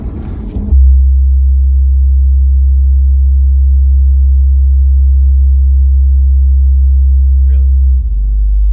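A car's noise-cancellation system, with a window cracked open, sets off a loud, steady low droning feedback tone that holds unbroken for several seconds after a brief burst of talk.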